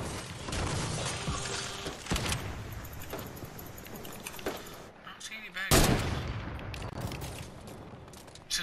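Gunfire in Fortnite Battle Royale, with scattered loud shots and bursts of varying distance over constant game noise, and voices talking faintly in places.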